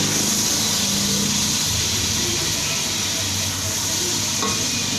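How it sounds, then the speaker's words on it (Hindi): Red chili, turmeric, salt and ginger-garlic paste masala fries and is stirred in a pan, giving a steady loud sizzle with faint scraping, no talk. "हल्दी, नमक, अदरक लहसुन का पेस्ट मसाला हम शामिल कर देंगे। तो अच्छे तरीके से भूनेंगे।"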